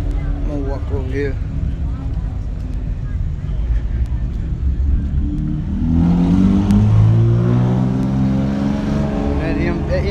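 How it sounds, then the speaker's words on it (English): An M performance car revs its engine at a supercar show, a loud rising roar swelling about midway and holding near, with people talking and crowd noise throughout. "That M was making a lot of noise."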